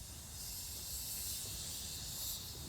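Steady, loud steam hiss from a whistle valve rigged on a heritage steam locomotive during its steam test, a continuous broadband rush with no pauses and no voices.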